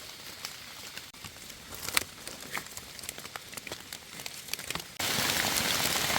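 Rain falls steadily on an outdoor surface, a dense patter of close drops with scattered louder hits, growing heavier and more constant toward the end, with no one speaking.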